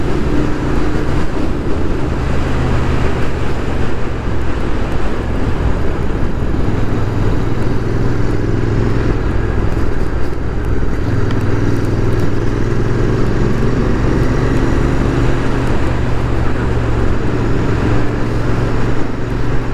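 A Royal Enfield motorcycle ridden along country roads in Provence, with a steady low engine drone and wind rumble continuing unbroken and loud throughout.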